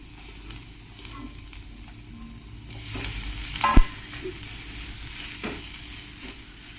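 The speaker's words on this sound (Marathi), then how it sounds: "तर आता आलं लसूण टाकून घेते मी पहिले" Ginger and garlic go into heated cooking oil and sizzle quietly, with a few stirring scrapes and a brief louder crackle near the middle.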